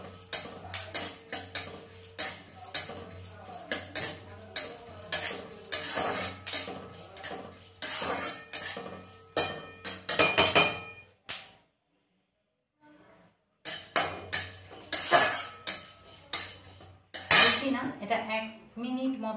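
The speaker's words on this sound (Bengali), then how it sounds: "তো দেখুন একটা আওয়াজ হচ্ছে চটপট চটপট করে" Sago pearls dry-roasting in a pan crackle and tick rapidly up close, a dense run of snappy pops that stops briefly near the middle and then resumes.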